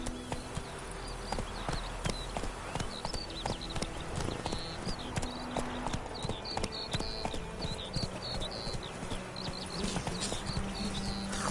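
Roach, the horse in The Witcher 3, trots along with steady, close hoof clip-clops over a bed of insect buzz and outdoor game ambience.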